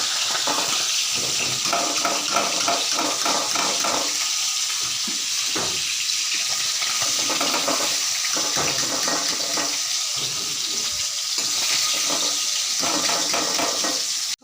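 Chopped vegetables are rinsed under running water, a steady rushing flow with intermittent splashes and handling noises, fairly close and continuous.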